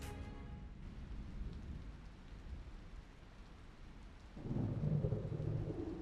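Thunderstorm with steady rain used as an audio drama sound effect, with a rumbling thunder roll and continuous rain hiss that swells louder and heavier near the end, no voices.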